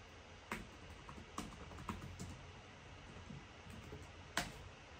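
Someone types on a computer keyboard at a Python prompt: a handful of faint, scattered keystrokes, close and quiet, with a slightly firmer tap near the end like an Enter key.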